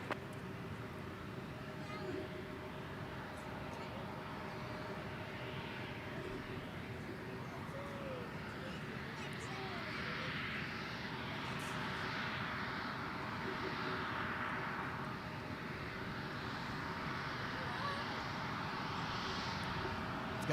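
A CRJ regional jet taxis at Minneapolis–St. Paul airport, its engines a steady distant whine and rumble holding throughout, with birds chirping faintly in the background.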